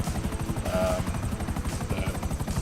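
A Buzzard helicopter in the video game GTA 5 gives a steady, rapid rotor thump with a whining engine drone, loud and continuous throughout.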